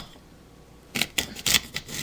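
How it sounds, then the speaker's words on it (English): A knife chops the tops off fresh homegrown asparagus on a board, giving five or six crisp, close cuts in quick, uneven succession after a quiet start. "So I'm just going to cut the tops off."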